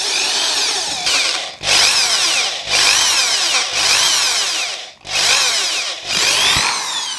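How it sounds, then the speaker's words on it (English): A power drill bores holes while a full-length tufted bedroom mirror is being built. There are about five loud, close, whining bursts with short pauses between them and no talking. "So I'll start here, drill one."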